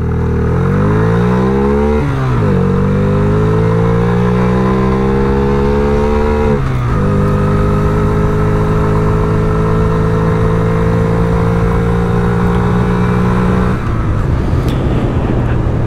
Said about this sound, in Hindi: सो बाइक एकदम साइलेंटली स्टार्ट होती है। Now let's go.